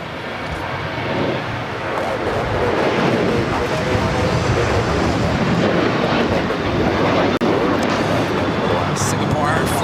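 A Singapore Airlines Boeing 777-300ER inbound from Tokyo touches down on runway 24 Right at LAX. Its loud, broad engine roar holds steady throughout, with faint voices underneath.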